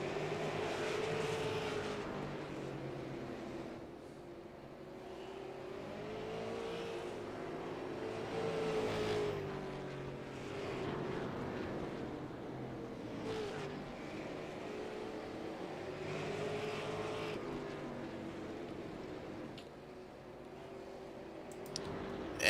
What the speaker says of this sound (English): the number 16 car, Dustin Mumberget. 5 laps to go as he crosses the line